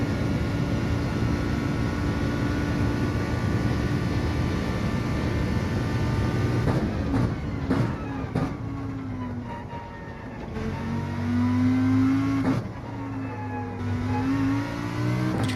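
A Lamborghini race car in Gran Turismo 7 drones loudly through a daily race at Trial Mountain in reverse, engine pitch steady then dipping and rising again as it shifts and accelerates, continuous and close.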